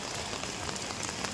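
Heavy rain pours steadily on a street in Panjim, Goa, a dense, constant hiss with no gaps, close and fairly loud.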